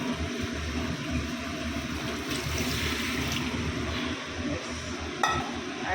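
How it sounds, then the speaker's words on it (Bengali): Water poured into a pan of cooking meat curry, a steady close hiss and churning bubble with a faint stir, alone and without talk. "জল দিয়ে দিই।"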